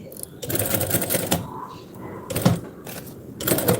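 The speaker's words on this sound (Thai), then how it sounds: "เย็บไปเรื่อยๆนะคะ" A sewing machine sews a buttonhole with a dense, short stitch setting, giving a steady close-up whirring hum with rapid needle chatter and small rhythmic surges throughout.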